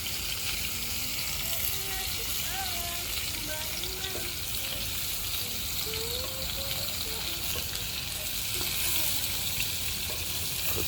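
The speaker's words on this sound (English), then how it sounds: "I'm cooking right here with this good old cast iron griddle that I brought from back home in Texas back a couple years ago" Food sizzles and fries on a cast iron griddle set over an open fire outdoors, a steady close crackling hiss that runs the whole time with faint chirps and background noise.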